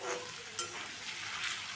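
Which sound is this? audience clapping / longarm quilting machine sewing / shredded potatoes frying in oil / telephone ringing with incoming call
shredded potatoes frying in oil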